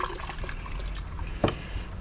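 Rinse water with gold-bearing purple CPU scraps is swirled in a container, giving a low, steady sloshing and trickling wash with one brief splashy peak partway through.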